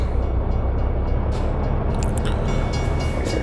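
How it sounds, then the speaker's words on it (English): A train rolls past on the left in American Truck Simulator, a steady, loud rumbling of rail cars with brief metallic clatter, heard from a truck cab near a FedEx delivery stop. "got a train going by on the left"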